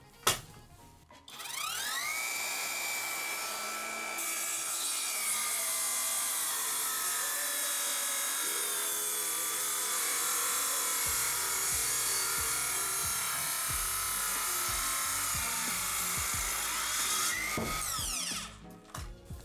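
Cordless circular saw bought from China cuts through a thick 50 mm floor beam from old flooring, a loud, steady high-pitched whine lasting most of the stretch, starting and ending abruptly, with no talk.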